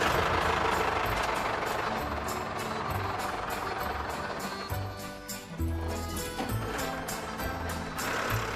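A farm tractor's engine on a farm in Eriz, Bern, rumbles and knocks steadily while moving a table to the barn, loud and close, with rattling clanks and brief dips in level.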